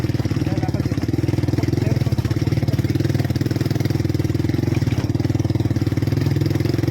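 A motorcycle engine idles steadily and loudly up close on the road toward Mount Labo, a continuous low throbbing rumble with no revving, running alone without talk.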